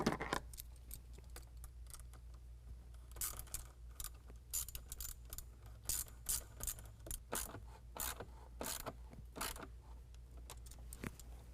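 An 8mm ratchet tightens a band clamp on a Volant cold air intake on a 2022 Chevy Silverado 1500 6.2L V8, giving bursts of quick close clicks in short runs over a low steady hum.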